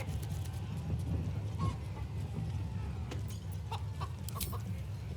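A chicken clucking in the video game Baldur's Gate 3 during a chicken-chasing course, short scattered clucks over a busy game backdrop, moderately close and without any speech.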